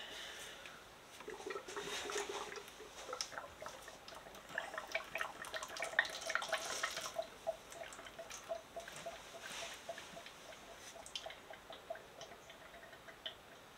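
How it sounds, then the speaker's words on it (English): Manky oil draining and dripping out of a Yamaha V-Max 1200 motorcycle fork leg in a workshop, a faint steady run of small ticking drips for the whole stretch. "I'm just gonna drain the oil out of this."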